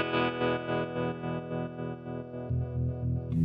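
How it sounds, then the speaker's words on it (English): A guitar runs through a Coppersound Loma Prieta tremolo pedal in lo-fi mode, its sustained chord pulsing in a steady rhythmic throb with thinned-out bass, moderately quiet and alone, then a new chord is struck near the end. "the lo-fi mode kind of cuts the bass and makes it sound like more lo-fi"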